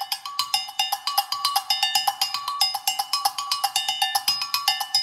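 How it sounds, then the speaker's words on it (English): Two agogô bells are squeezed together, producing a rapid stream of bright clinking metallic hits in a fast, even rhythm, up close and alone without speech. "squeeze the two bells together and make it sound like this."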